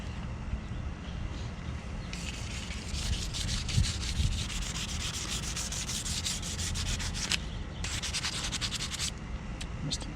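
Light hand sanding of a mountain bike frame with sandpaper, a soft steady scrubbing rub running through most of the stretch, with brief pauses and a few denser bursts of strokes, close and alone without talk.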